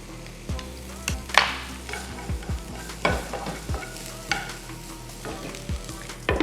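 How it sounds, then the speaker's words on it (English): Garlic sizzles steadily in a hot pan for a sweet potato crust quiche, with repeated sharp scrapes and taps of a utensil stirring it close by and no talking. "I think it's a good time to add the garlic"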